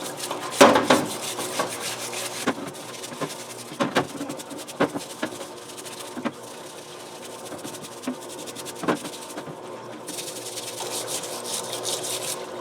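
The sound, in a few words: scrubbing parts with a baby bottle cleaner brush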